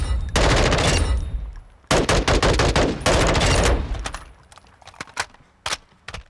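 CMMG Banshee PDW chambered in 5.56x45mm firing on a Call of Duty Modern Warfare II firing range: loud, rapid automatic bursts, two long strings, then shorter sharp volleys and single cracks.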